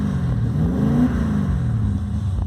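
A Holden VB Commodore engine revs up close, its pitch rising and then easing back across a short burst of steady mechanical drone, with no talking.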